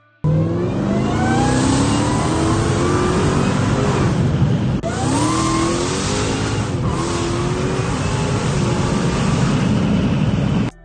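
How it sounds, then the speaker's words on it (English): A Dodge car engine revs hard and steadily with a whooshing shh noise on each press of the gas, rising and falling in pitch through two long pulls with a brief break between, loud and close, with no talk. "I'm hearing this shh, shh, every time I step on the gas"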